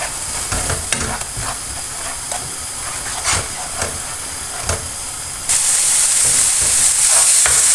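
Dhaba-style aloo gobi matar bhurji fries in a pan with chaat masala, giving a loud, continuous sizzling hiss that swells into steam toward the end, with intermittent scraping of a spoon stirring.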